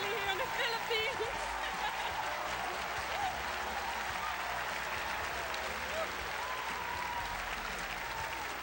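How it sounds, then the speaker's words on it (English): Crowd at the Miss Universe 1994 pageant in the Philippines applauding and cheering loudly and steadily throughout, with a voice talking over the ovation. "I knew the crowd would go crazy for Charlene Gonzalez"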